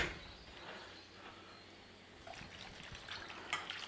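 About half a cup of water poured into an emptied tomato soup can to rinse it, a soft trickling and splashing that grows a little louder toward the end, heard alone.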